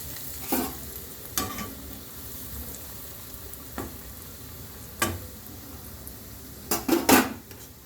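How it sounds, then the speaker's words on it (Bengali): Fish chops dropped one at a time into hot oil in a pan, giving a steady close sizzle broken by several sharp clatters of utensils against the pan, with no talking. "তেল গরম হয়ে গেছে, আমি একটা একটা করে চপগুলো ছেড়ে দিচ্ছি।"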